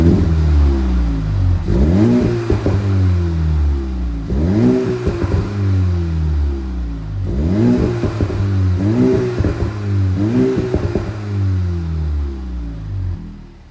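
A VW MK8 GTI fitted with an AWE Touring cat-back exhaust revs repeatedly in loud, close bursts, its deep exhaust note rising and falling in a steady rhythm with no talking.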